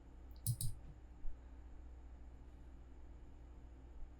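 Two quick mouse clicks early on while working in AutoCAD, then a third fainter click, all faint and close against a steady low hum with no talking.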